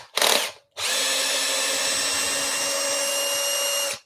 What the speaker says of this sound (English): I'm going to grab my driver and just remove those screws